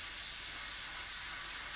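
Steady broad hiss of spray painting, an even continuous spray across the whole stretch with no breaks and no voices.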